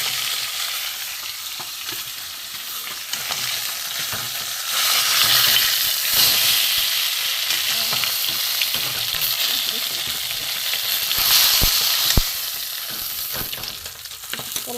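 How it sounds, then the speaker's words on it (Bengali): Fish heads and tails, including rohu tail, frying in hot oil for a spicy Bengali fish curry, giving a steady close sizzle with occasional stirring scrapes and crackles throughout, no talking. "মাছের মাথাগুলো ভাজা হয়ে গেছে, আমি এবার তুলে নেব। একটু লাল লাল করে ভাজা হয়ে গেছে।"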